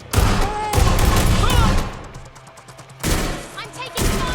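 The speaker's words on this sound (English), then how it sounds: "I'm taking fire!" Sustained loud gunfire from the Watch Dogs Legion video game, a dense volley lasting about two seconds, a lull, then another heavy burst, all close and booming.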